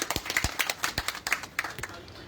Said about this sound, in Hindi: और इसके बाद ताली रहने दीजिए, प्रेस कॉन्फ्रेंस है।